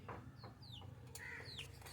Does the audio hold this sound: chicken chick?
yes